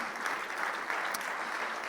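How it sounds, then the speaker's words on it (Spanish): A church congregation claps in praise to the Lord, a steady, even wash of many hands applauding together, moderately loud and continuous. "Fuerte ese aplauso de alabanza al Señor"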